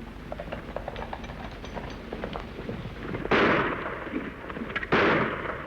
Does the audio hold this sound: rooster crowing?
no